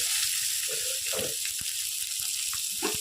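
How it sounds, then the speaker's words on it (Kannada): Onion fries in hot oil with crushed garlic, red chilli, curry leaves and asafoetida, giving a close, continuous sizzle with a few soft stirring scrapes over it. "ಇದನ್ನು ಸ್ವಲ್ಪ ಫ್ರೈ ಮಾಡುವ ಈರುಳ್ಳಿ ಎಲ್ಲ ಫ್ರೈ ಆಯಿತು"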